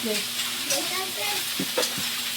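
Vegetables frying in a pan with salt, turmeric and cumin give a steady broadband sizzle, broken by a few light knocks of a spoon as they are stirred. A faint voice-like tone drifts underneath.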